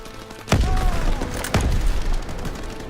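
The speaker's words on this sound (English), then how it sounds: "Grenade out! Throw a couple grenades." Grenades explode in a Call of Duty: WWII battle, two heavy booms about a second apart over a constant din of distant gunfire, with no talk during the blasts.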